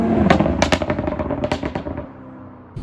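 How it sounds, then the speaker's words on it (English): A 2018 BMW 340i exhaust snaps and crackles on lift-off after revving to about 6,000 rpm in third gear, a rapid string of sharp pops over a fading engine roar, loud and close. "if I go to third gear, go to about 6K and let off, it just snap, crackle, pop."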